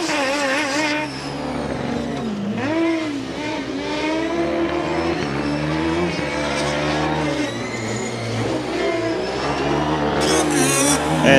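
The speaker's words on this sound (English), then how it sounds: "rolling up to the green flag position now with the strange chirping sound that Mickey and I were already describing at the acceleration event" ETH Zurich Formula Student race car number 33 rolling up to the green flag at an endurance event, a loud steady motor with strange chirping, harmonic tones rising and falling over continuous track noise.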